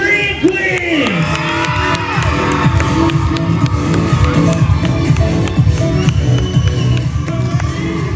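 A crowd at a junior level 2 cheerleading competition cheers and whoops for a cheer team, loud and sustained, with shouts and an announcer's voice amid the roar.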